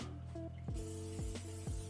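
Cooking spray hisses in three short bursts over a tray of baked chicken parmesan in a home kitchen, close and fairly quiet, with a low steady hum underneath.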